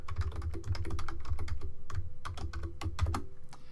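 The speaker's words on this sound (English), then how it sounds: "So I'll type in a password here, make it reasonably secure." Fingers type a password on a computer keyboard during a SQL Server 2016 installation, with quick, uneven key clicks in rapid bursts, close and clear, and no talking.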